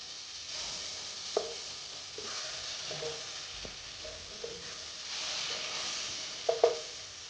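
Butter melting in a pan for white sauce pasta gives a soft, steady sizzle and hiss with scattered light clinks and stirring scrapes, fairly quiet throughout.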